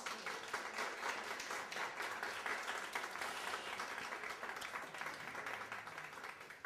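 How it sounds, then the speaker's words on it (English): An audience applauds steadily and continuously at a lecture, a dense, even patter of many hands heard from a moderate distance without talk over it. "And again, give Gary a round of applause"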